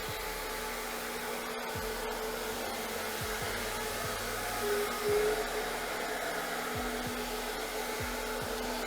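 An i-mop XL Pro floor scrubber runs steadily up close, giving a continuous whirring motor hum with a brushing wash over it. The pitch stays mostly even, with a faint rise in the middle and no talking.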